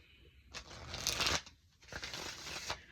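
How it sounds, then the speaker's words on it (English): Tarot cards being shuffled in quick riffling bursts, two main rustling passages separated by a short pause, close and fairly quiet with no talking. "One more shuffle."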